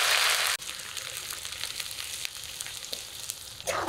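Chopped onions sizzle in hot oil already holding bay leaf, dried red chilli, whole cumin and garam masala, bubbling steadily and close up after a brief louder burst at the start.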